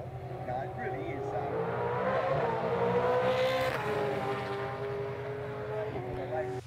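Supercars V8 race cars, a Chevy and a Mustang, roar past at the Adelaide 500 street circuit, a sustained engine drone swelling and fading as they pass at a distance.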